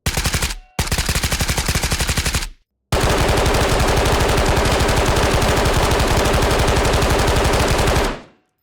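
Rapid automatic gunfire in the video game Ghosts of Tabor, loud sustained bursts: two short volleys, a brief pause, then a long unbroken stream of shots, close and with no voices.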